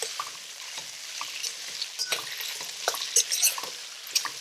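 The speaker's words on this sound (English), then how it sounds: "Stir it well to coat it with a delicious curry paste." Potato pieces stirred through curry paste in a hot pan, with quick close scraping strokes of a spoon and soft sizzling frying underneath, uneven taps and scrapes repeating through the clip.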